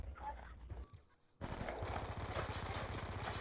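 Rapid automatic gunfire in a first-person shooter video game, a brief burst, a short lull, then a dense sustained volley of loud shots to the end.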